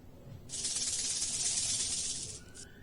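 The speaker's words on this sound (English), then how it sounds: "snake" A snake gives one long, loud, breathy hiss that starts abruptly, holds steadily for about two seconds, then cuts off with a brief final puff.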